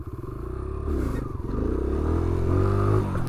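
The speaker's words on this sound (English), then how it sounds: "That was a good wheelie" A motorcycle pulling a wheelie, its engine revving hard and climbing in pitch up close, loud and continuous with a rough, rising drone.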